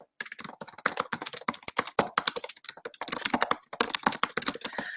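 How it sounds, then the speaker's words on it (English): Fingers type rapidly on a computer keyboard, producing close, crisp key clicks in quick bursts with brief pauses between words. "I'm just going to type in my question stem."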